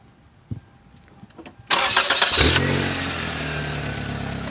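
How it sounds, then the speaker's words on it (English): A high-mileage car with a worn engine or transmission mount starts up with a loud burst, then settles into a steady, slightly rough idle as it is put in reverse and driven, nearby and alone without talk. "I'm going to put the car in reverse and drive it."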